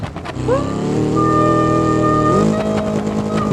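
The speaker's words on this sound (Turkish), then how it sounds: "İtalyan yarış arabasıyla istiyoruz." Italian race car in BeamNG.drive, its engine revving up loud and close, pitch rising steadily through a sustained whine before settling into a steady high drone.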